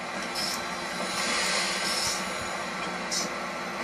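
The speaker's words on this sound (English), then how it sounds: "junction sounds sound pretty realistic on this game" A simulated AEM-7 electric locomotive in the Trainz train game rolls over track and through a junction, giving a continuous rumbling rail noise with short hissing bursts.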